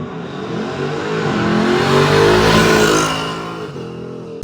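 A Ford Mustang GT fitted with an H-pipe exhaust revs up loudly nearby, the engine note swelling to a peak around mid-clip before settling back, with no talking.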